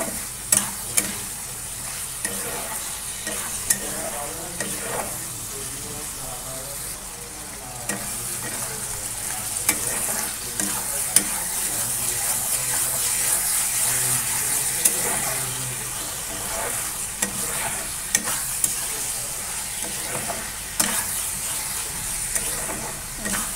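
Meat frying in a pan with garam masala powder, a steady crackling sizzle with repeated scraping stirs and occasional clanks throughout, fairly close and without speech.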